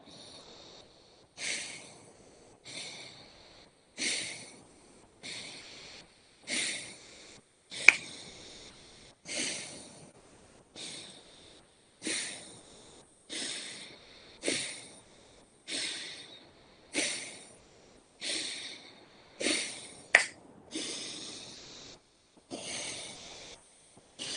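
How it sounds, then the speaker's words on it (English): Single crisp finger snaps repeat at an even pace about every one and a half seconds, close and clear, each followed by a soft, fading breath in a quiet room during a guided breathing practice. "Snap my fingers for a long one."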